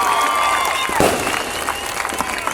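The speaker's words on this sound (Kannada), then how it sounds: "ಒಂದು ಗೌರವದ ಚಪ್ಪಾಳೆ ಬರಬೇಕು ನಮ್ಮ ಡಿವೈನ್ ಸ್ಟಾರ್ ರಿಷಬ್ ಶೆಟ್ಟಿ ಸರ್ಗೆ" An audience applauds actor Rishab Shetty at a stage event in Brahmavar, with continuous clapping and crowd noise filling the whole stretch at a steady, fairly loud level.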